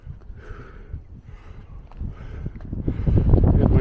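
Gusty wind buffets close by on an Appalachian Trail summit, rumbling and building in strength over a few seconds with no one speaking.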